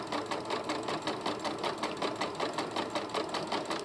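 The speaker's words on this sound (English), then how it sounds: "the machine or the foot is moving the beads" A sewing machine fitted with a beading foot stitches beads onto fabric, its needle hammering in a steady fast rhythm, close and continuous with no talk.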